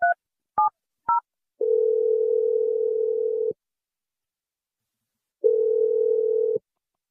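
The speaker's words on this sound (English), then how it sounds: "I'm dialing April's number right now" A telephone call being placed: three short keypad beeps in quick succession, then two long, steady tones separated by a stretch of silence, clear and alone with no voices.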